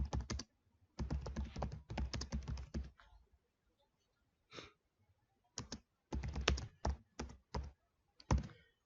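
Keys clatter on a computer keyboard in quick bursts of typing broken by pauses, close and fairly quiet, with a few single key taps near the end.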